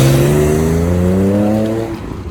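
A Ferrari sports car pulls away loudly in a Paris square, its engine climbing in pitch through a sharp rev before fading as it leaves.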